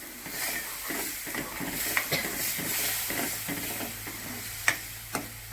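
Spices sizzle and crackle in hot oil while a spoon stirs, with a few sharp clinks against the pan, as tempering is made for a dill and spinach curry with gram flour.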